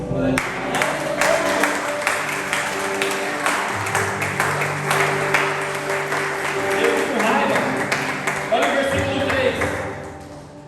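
Church congregation clapping in praise during a sermon, sustained applause over a background of organ or keyboard tones and voices, loud and continuous throughout with some rhythmic accents.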